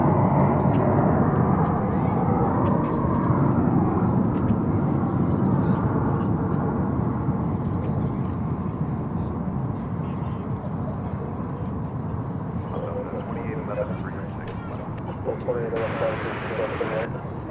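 An Embraer 170 airliner departs DFW Airport bound for Abilene, its jet engines a sustained broad rumbling roar slowly fading, with a voice speaking over it.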